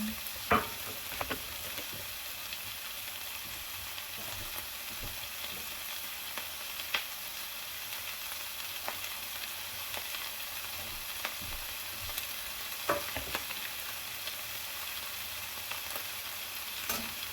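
Carrot filling for meat lumpia sizzles steadily in a pan while being sautéed, with scattered sharp clicks and scrapes of stirring over a continuous frying hiss.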